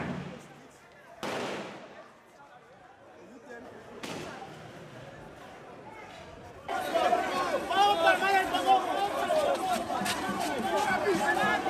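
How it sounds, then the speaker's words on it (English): Police fire at demonstrators during a cost-of-living protest: sharp cracks ring out near 1 and 4 seconds, then a loud, dense crowd roar of shouting and chatter takes over and keeps going. "Look at him firing."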